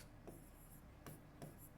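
A pen scratching across paper as a school application for issuing books is written out. Three brief, dry strokes sound up close and quiet, with no talking.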